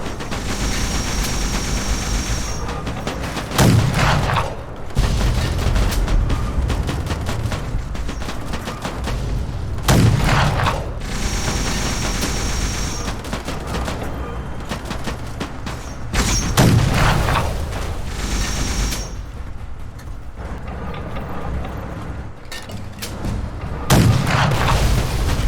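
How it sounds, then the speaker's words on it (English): Tank battle in Fallout New Vegas with an NCR tank: continuous crackling gunfire under a steady rumble, punctuated by heavy booming explosions every few seconds, loud and dense throughout. "Let's just pause this tank battle for a level up."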